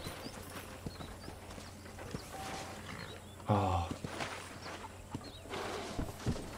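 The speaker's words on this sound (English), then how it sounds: "How does the horse walk backwards?" A horse's hooves clip-clop at an unhurried walk in the western video game Red Dead Redemption, faint and steady under ambient game sounds, with one brief spoken exclamation.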